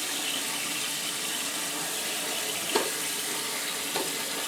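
A toilet tank refills with water in a steady, continuous hiss and rush from the inlet valve, close and even throughout, with a couple of faint clunks during a repair of a leaking toilet.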